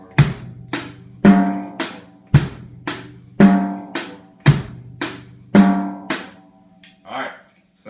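A basic drum-kit beat played on hi-hat, snare and bass drum, with about ten evenly spaced loud hits in a steady pulse, heard close and alone before a brief softer sound at the end.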